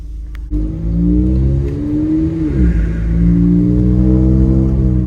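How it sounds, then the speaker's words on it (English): A VW Jetta engine revs up loudly through an open, less restrictive Unitronic air intake with a deep, throaty intake roar, dips briefly, then climbs again, sounding close and continuous. "The added benefit of the sound that this open intake, less restrictive intake adds is definitely well worth it."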